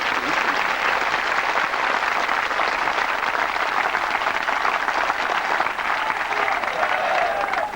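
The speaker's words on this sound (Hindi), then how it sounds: "ये वास्तव में एक ताली बजाने का कार्य है।" Sustained clapping from a large gathered audience at a spiritual meditation camp, dense and steady throughout, loud and continuous without pause.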